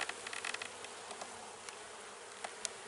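Honeybees buzzing steadily around a thriving spring hive, a dense close hum with individual bees flying past the microphone now and then.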